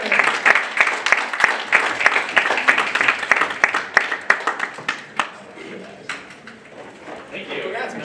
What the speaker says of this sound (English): Round of applause for the winner.